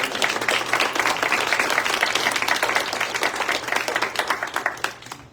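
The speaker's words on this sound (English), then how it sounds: "Can we give them a round of applause for that?" Audience applause fills a nonprofit alliance launch event in Bermuda, dense steady clapping from a crowd that holds loud for several seconds before thinning and fading out at the end.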